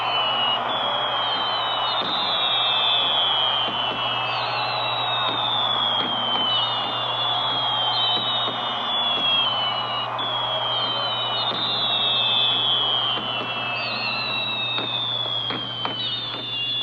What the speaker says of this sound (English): The fireworks is about to begin now.